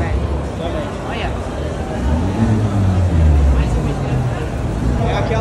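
Expensive sports cars including a McLaren accelerating out of a shopping mall, deep engine roar rising and swelling under a crowd's babble and nearby talking.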